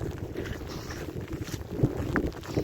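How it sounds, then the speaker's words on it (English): Gusty wind rumbles against the microphone in uneven surges, with occasional knocks and rustles on top. "It's getting windy, it's raining again."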